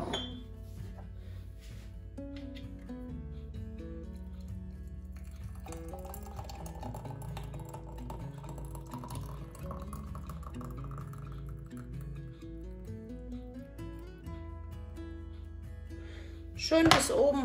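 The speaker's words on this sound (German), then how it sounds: "wird jetzt von mir in Gläser gefüllt" Currant-mango jam is filled into sterilised glass jars, with soft clinks of glass and faint pouring under quiet background music, ending in a brighter clatter of jars.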